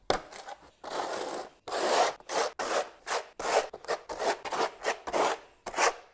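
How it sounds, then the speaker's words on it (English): Trowel back-buttering tile adhesive onto the back of a tile, a close series of short rasping scrapes in an irregular back-and-forth rhythm with brief pauses between strokes. "Back butter your tiles with adhesive."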